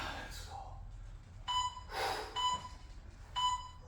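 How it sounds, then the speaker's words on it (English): Workout interval timer in a home garage gym beeping in three short bursts of sharp, steady high tones about a second apart, loud and close, with heavy breathing and faint movement between them. "My timer just told me to go roller"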